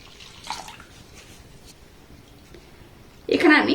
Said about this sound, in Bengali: এবার দেখুন ওই কাপের মাপ করে এখানে আমি জল দিয়ে দেব